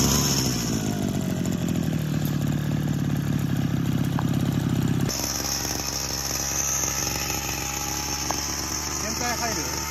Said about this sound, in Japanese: じゃあエンジンかけます。